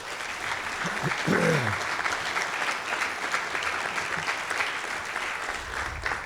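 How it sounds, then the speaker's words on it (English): An audience at the Nixon Library gives a speaker a sustained round of applause, steady dense clapping filling the room throughout, with a brief voice briefly audible near the start. "Let's give him a round of applause"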